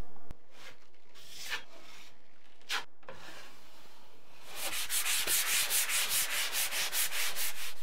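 A putty knife scrapes dried joint compound off a drywall patch: a few short isolated scrapes, then a fast run of rhythmic rasping strokes, close and fairly quiet.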